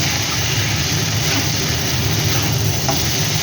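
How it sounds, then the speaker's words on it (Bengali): Ginger fries in a pan with a loud, even hiss that runs unbroken throughout, close up and with no voices. "এই সবটা এবার ভাজা ভাজা হয়ে গেল"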